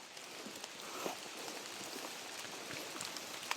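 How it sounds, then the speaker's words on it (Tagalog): Steady heavy rain falls outdoors in a forest, a dense even hiss with scattered drips and patters, no voices. "Malakas ang ulan."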